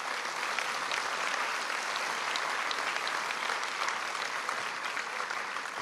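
A crowd at the Valognes mayor's New Year wishes ceremony applauds in honour of a local figure and her team, an even, sustained roar of many hands clapping with no voices.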